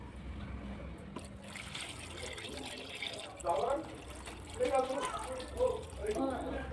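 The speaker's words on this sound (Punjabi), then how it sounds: "ਹੁਣ ਅਸੀਂ ਕਰਾਂਗੇ ਇਹਦੇ ਵਿੱਚ ਪਾਣੀ ਐਡ" Water is poured into a pan of aloo matar paneer curry, a soft trickling and splashing that swells in a few bursts, with a voice faintly present in the background.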